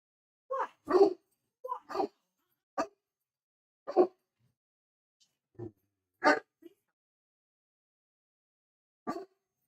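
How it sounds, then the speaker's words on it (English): A dog barks in short, separate bursts, several sharp woofs spaced irregularly with silence between them, close and moderately loud. "Look at this dog."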